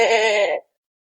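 A single goat bleat rings out close and loud for about half a second, then cuts off into silence.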